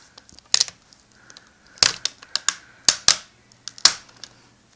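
Taped part being peeled loose inside a Gateway NV76R laptop during screen replacement, a handful of sharp crackling tape rips and plastic clicks in short bursts with quiet gaps between, close up, no talking.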